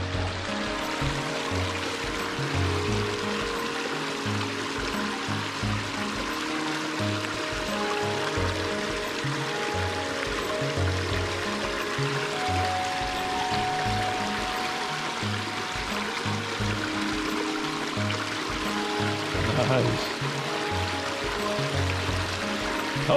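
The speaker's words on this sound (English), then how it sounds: "Cool little creek. Pretty little hike right here. Nice creek down here." Water tumbling through a small creek with a tiny waterfall along a hiking trail in a rural village, a steady close rushing flow with no talking over it.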